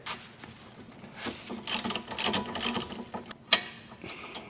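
A single bolt being loosened from the brake line bracket on a car's strut, heard as soft, close ratcheting clicks and small metallic turns in irregular bursts, with no talk.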